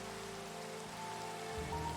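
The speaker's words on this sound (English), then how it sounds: "doing this in the rain is not cool." Steady rain falls during a hike in the Black Desert, a constant soft hiss of drops on surfaces with a faint low hum underneath, no voices.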